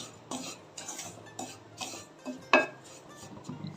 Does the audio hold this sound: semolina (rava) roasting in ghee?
yes